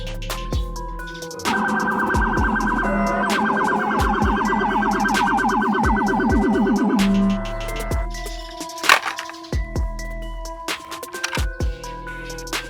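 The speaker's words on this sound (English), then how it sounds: "Police car." A police car siren wails in a steady warbling pattern for several seconds before stopping, followed by a few scattered knocks and clunks.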